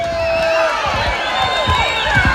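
A large outdoor political rally crowd at a state capitol cheers loudly, a dense roar of many voices with scattered whoops and shouts that holds steady throughout.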